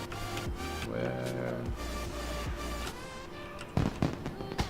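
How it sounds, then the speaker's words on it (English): Fireworks in the World of Warcraft video game going off inside the Bank of Dazar'alor, with crackling pops and bangs in quick irregular bursts over layered game music and effects. "Where are these fireworks coming from?"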